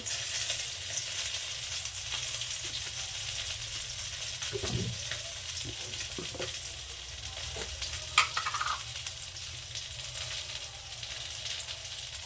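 Oil sizzling steadily in a pan after fish has been fried, a continuous close frying hiss with a few stirring knocks and a brief clink partway through, no talking.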